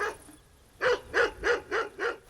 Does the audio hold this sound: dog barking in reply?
yes